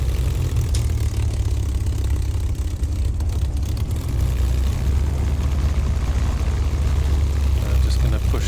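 P-51D Mustang propeller engine idling steadily on the ground in MSFS2024, a continuous low droning rumble with slight throttle changes, heard alongside occasional speech.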